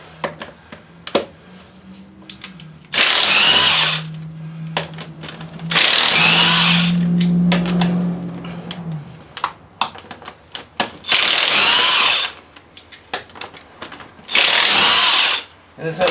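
A power tool zips off the lug nuts of a seized wheel hub in four loud, close bursts of a few seconds each. Clanks and small tool knocks fill the gaps between them.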